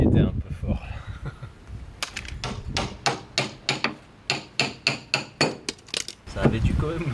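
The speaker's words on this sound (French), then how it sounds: "Et là, on va tout de suite attaquer au marteau burin." Chipping hammer knocking thick layers of body filler off a convertible car's panel: a run of about a dozen sharp, regular metallic blows, preceded and followed by scraping and handling noise.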